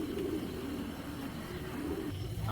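Racing pigeons coo low and steadily, close and continuous, with no talk.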